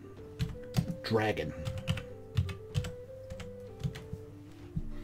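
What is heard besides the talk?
typing on a computer keyboard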